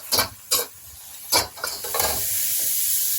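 Green chillies sautéing in a pan for street-style kothu parotta, with a few sharp scraping stirs of a spatula at the start, then a steady close sizzle and hiss.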